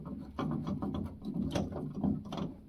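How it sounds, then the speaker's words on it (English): A screw is driven into the back panel of a Sony Trinitron KV-32S42 television, producing close, repeated scraping and ratcheting twists in an uneven rhythm, with no speech. "So screwing that in."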